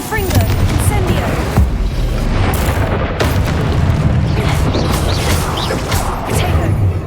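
Confringo blasting spells going off in the Hogwarts Legacy video game, a dense run of booming explosions and crackling bursts under continual spoken spell incantations, loud and busy throughout.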